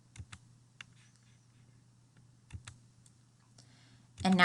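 A few quiet calculator keypad presses, sparse single clicks with pauses between them, over a low steady hum, ending in a louder burst of noise.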